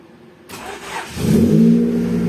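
A Honda Civic engine cranks with the ignition, catches after about a second and settles into a loud, steady idle close by.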